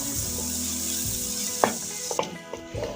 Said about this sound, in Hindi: इनको हल्का सा फ्राई करना है आपने।